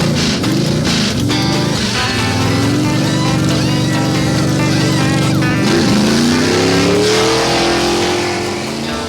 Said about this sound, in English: These race cars take quite a bit of handling.